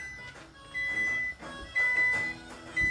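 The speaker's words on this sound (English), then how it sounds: "that's the oven beeping that it reached the temperature of 380." An electronic oven beeps on reaching 380 degrees in a repeated pattern of short tonal bursts, several beeps at a steady rhythm against a quiet room.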